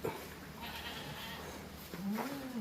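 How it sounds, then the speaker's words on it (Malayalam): A large goat suited to farm rearing bleats once near the end, a rising wavering cry heard close and clear over quiet outdoor background noise. "അടിപൊളി ആട് വളർത്താൻ പറ്റിയ ആട്"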